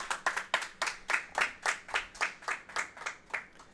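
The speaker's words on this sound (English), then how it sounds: "We can get a round of applause in the room for him." A round of applause from an indoor audience at a Guild Wars 2 speedrun event, with steady bursts of hand clapping.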